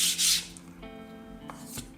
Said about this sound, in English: To make sure this is flat, I'll just draw some light lines, run it across this sandpaper.